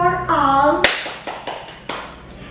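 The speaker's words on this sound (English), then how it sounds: "Give applause for all." A few scattered handclaps from a class, heard just after a brief sung or drawn-out voice, sharp and close, tapering off within a couple of seconds.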